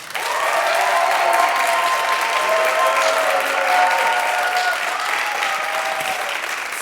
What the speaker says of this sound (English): Would you please clap?